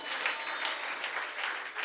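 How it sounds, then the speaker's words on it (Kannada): A church congregation clapping together, a dense, even patter of many hands sustained at moderate volume without pause. "ಜೋರಾಗಿ ಚಪ್ಪಾಳೆ ತಟ್ಟೋಣ ಏಸಪ್ಪನಿಗೆ"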